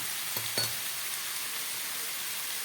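Ginger paste added to a pan of vegetarian Bengali khichuri, with loud, continuous frying hiss throughout and a couple of faint utensil taps near the start.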